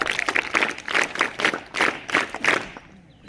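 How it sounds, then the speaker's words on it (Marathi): Audience at a high school flag-hoisting and rangoli exhibition event claps for students, a burst of fairly close, uneven applause in repeated waves that fades out toward the end. "त्यांच्यासाठी एकदा जोरदार टाळ्या"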